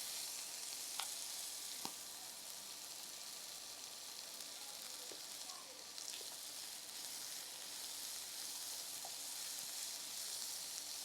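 Beans and carrots sizzle loudly in a pan of oats upma, a dense, steady frying hiss with a few sharp crackles and spatters, no talk.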